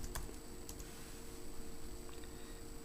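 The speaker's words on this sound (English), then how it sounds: "you gotta type in your username and password" Fingers typing a username and password on a computer keyboard: a steady run of soft, close key clicks over a low background hum, with no talking.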